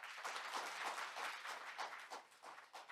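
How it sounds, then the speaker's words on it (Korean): A forum audience claps for Professor Lee Sedol after his speech: dense, steady applause from many hands, soft and somewhat distant, with no talking over it. "좋은 연설을 들려주신 이세돌 교수님께 다시 한번 박수 부탁드립니다"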